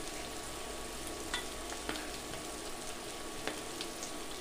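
Green chillies fry in a pan with beans and moong dal, a steady close sizzle with occasional soft stirring clicks, no voices.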